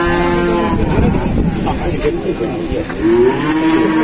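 A contest cow at the Gondanglegi animal market moos loudly and close by, its drawn-out low call swelling near the end over a steady background of market bustle.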